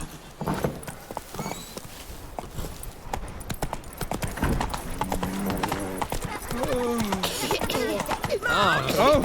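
Roach, a horse in The Witcher 3 video game, gallops in quick rhythmic hoofbeats with a whinny near the end, while voices talk over the running.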